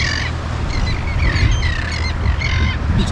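Birds at a bird sanctuary seen from an anchored boat give repeated raucous calls in short bursts over steady wind and water noise, fairly loud and continuous.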